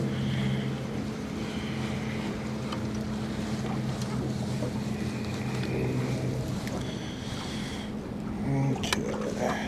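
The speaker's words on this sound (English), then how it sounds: "Go trolling motor." A trolling motor on a fishing boat runs with a steady low hum under wind noise and open-water ambience, and brief voices come and go near the end.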